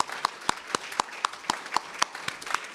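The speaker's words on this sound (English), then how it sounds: "let's have another round of applause for Paul Stopforth and Jessica Jacobs." Clapping at the close of a faculty presentation, with sharp, evenly spaced claps in a quick steady rhythm, about four per second, standing out clearly over a faint background of scattered hands.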